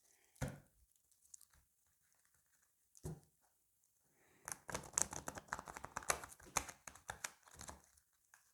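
Tarot cards shuffled and cut by hand, with a short crisp riffle near the start, another brief snap at three seconds, then a longer run of papery flicks and card slaps, close and quiet with no talking.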